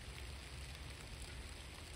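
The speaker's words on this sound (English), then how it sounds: "steady rain," Steady rain falls in East Brookfield on a March day, a faint, even hiss of drops with no break and no voices.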